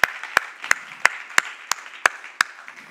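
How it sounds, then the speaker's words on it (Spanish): Church congregation clapping in a steady rhythmic beat, eight crisp claps spaced evenly over a few seconds in a reverberant hall. "Dale un aplauso al Señor por gente consagrada al Señor."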